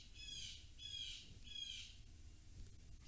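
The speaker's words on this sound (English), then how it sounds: "Shut up, bird." A bird squawks three times in a quick, evenly spaced series of harsh calls, faint and somewhat distant, alone without talk.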